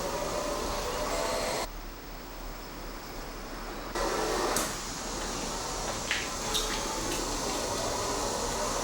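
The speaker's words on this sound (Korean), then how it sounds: "반복해서 스팀 청소기를 가동시켰다." A steam mop cleaner runs steadily through repeated product testing, a constant broadband hiss and whir that drops back briefly partway through before resuming, with a few faint clicks near the end.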